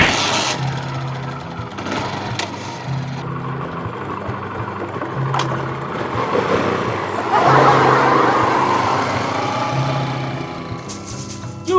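A vehicle engine repeatedly cranks, stalls and fails to start, giving several short, evenly spaced grinding bursts that end in a louder, rougher attempt near the finish.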